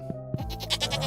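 A couple of short sheep bleats in the video game Stardew Valley ring out close by, followed by a quick run of rhythmic pulsing sounds.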